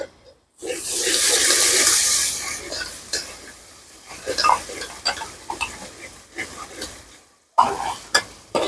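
Ground ginger, garlic and chili paste dropped into a hot pan inside a truck kitchen: a loud hissing burst at first, then intermittent stirring clatter and sizzle, with brief quiet gaps.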